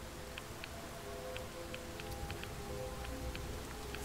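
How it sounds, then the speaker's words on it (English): Rain patters steadily in the game Fallout 4, a soft, even hiss of drops with occasional light ticks over a low hum. "At this point, just rain. I'll deal with the rain, alright?"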